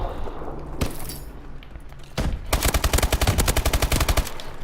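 Rapid automatic gunfire in Call of Duty, a single sharp shot followed after a pause by a dense, loud burst of sustained rapid fire close to the player.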